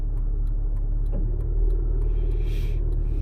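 A car driving slowly around a housing development, a steady low engine and road rumble heard from inside the cabin, with a brief rise near the end and no talking.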